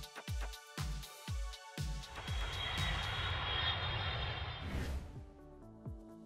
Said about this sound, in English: Some people feel very uncomfortable when they see a low-flying aircraft.